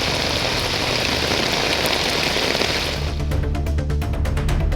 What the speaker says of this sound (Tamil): இரவு நேரத்தில் மாவட்டத்தின் பல்வேறு பகுதிகளில் பலத்த காற்றுடன் கனமழை பெய்தது.